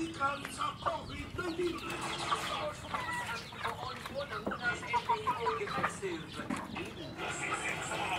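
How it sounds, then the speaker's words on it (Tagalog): A flock of chickens clucks steadily in a coop, close and busy, while a person talks over the birds. "Ngunit tanan akong manok rin."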